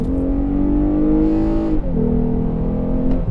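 A 2020 Lexus IS350 F Sport with all-wheel drive and 311 horsepower accelerating hard, heard from inside with a steady engine drone that rises in pitch, drops at a gear change, then climbs again.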